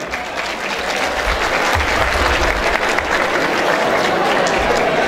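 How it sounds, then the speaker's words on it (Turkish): Audience at a village goose night event applauds an imam invited to the stage, steady clapping from a sizable crowd filling the whole stretch after a brief lead-in. "Bir alkış alabilir miyiz?"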